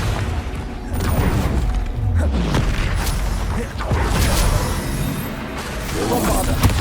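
Confringo fire spell blast in Hogwarts Legacy, a loud boom amid continuous combat noise and layered effects, with a voice calling out over the action.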